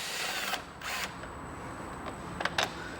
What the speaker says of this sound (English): Then you'll need to remove 4 T30 fasteners.